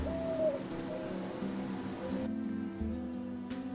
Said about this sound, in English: Can you hear that? It sounds like there's an owl in my fireplace.